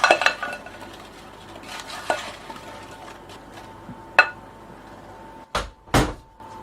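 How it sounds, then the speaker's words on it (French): Sliced apples being stirred with melted butter in a bowl, soft wet mixing sounds with sharp clinks and knocks of a utensil against the dish, close up and with no speech. "prendre les pommes et les mélanger avec le beurre fondu"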